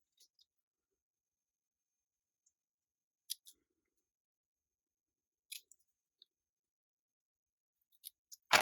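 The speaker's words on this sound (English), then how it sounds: "So I'm just going to trim this up and cut it in a banner to get that straight." Scissors snip through stamped cardstock while trimming it into a banner shape, giving a few quiet, sparse cuts in near silence with long pauses between them.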